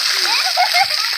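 Water splashing steadily from a spray feature at a water park, a constant hiss of falling water with a voice and excited calls over it.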